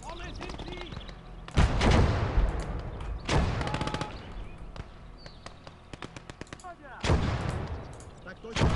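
Gunfire and artillery blasts in the WWII strategy game Gates of Hell: Red Star Rising, with several heavy booming shots spaced a second or two apart among sharp rapid cracks of smaller arms, while someone talks throughout.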